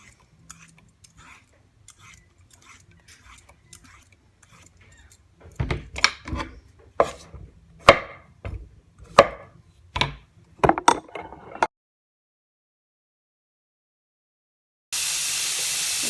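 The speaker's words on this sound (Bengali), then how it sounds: "আজকে শুধু জুকিনিটা ভাজি করব তো এটা আমি ছিলিয়ে নিচ্ছি" Zucchini being peeled before frying: faint light scraping at first, then a run of about ten sharp, close scraping strokes in quick irregular rhythm, followed by silence and a burst of steady hiss, with no talking.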